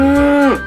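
A cow in an animated children's bedtime story lets out a single short, loud moo that drops in pitch at the end and is heard alone.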